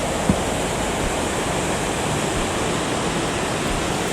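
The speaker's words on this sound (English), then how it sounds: "the river Leaky flows through a narrow basin, creating a spectacular waterfall" A spectacular waterfall on the River Leaky in Snowdonia, where the river flows through a narrow basin among beech, conifer and birch trees, roars as a steady, loud, unbroken rush of falling water with no voices.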